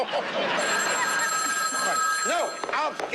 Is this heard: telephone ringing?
yes